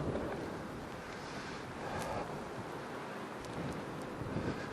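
Wind buffeting a microphone on an ATV ride high on a mountain in late fall, a steady close rushing roar with faint gusts and no voices.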